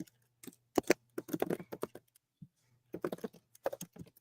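Someone types on a computer keyboard in short irregular runs of close, crisp key taps, pausing briefly midway, with no talking over it.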